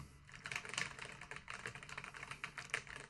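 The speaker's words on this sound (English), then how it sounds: "let me just type on one of these keyboards that I've got in for repair" Someone types on a mechanical keyboard with mint switches, in a workshop for repair: a quick, continuous patter of close, crisp keystrokes at low overall level, no talk.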